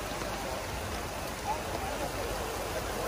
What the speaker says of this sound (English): It's raining. Raining. It is getting worse.